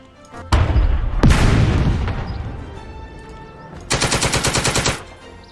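Tank cannon and machine gun fire in a WW2 tactical squad game: a heavy booming shot rolling away, a second blast, then a rapid rattling burst of automatic fire, loud and close.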